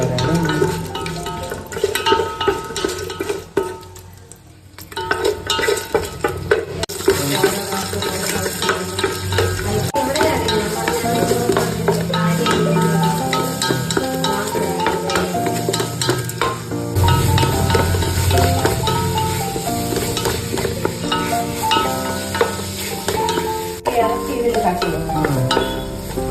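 Cardamom and whole spices frying in a pan for chicken mandhi, with a loud continuous sizzle and the scrape of stirring close by.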